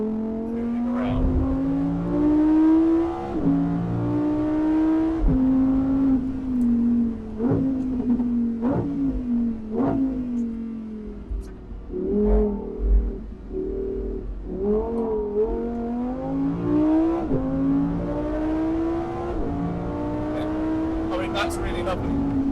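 A new sports car driven hard through corners on a road, its engine note rising and falling with repeated gear changes and revs, steady and close from inside the cabin, while someone talks over it.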